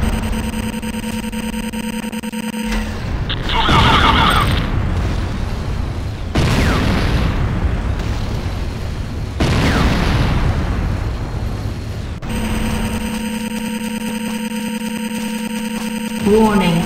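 An enemy structure is destroyed in the game Renegade amid heavy booming explosions and dense battle noise, with electronic tones and bursts of chaotic gunfire layered over the blasts.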